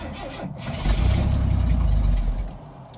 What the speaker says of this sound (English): I'm going to try and fire it up without giving it any throttle